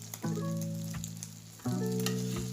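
A leftover meatloaf omelet sizzles in a frying pan just after being flipped. A soft frying hiss sits under a strong steady tonal hum that jumps in loudness about halfway through.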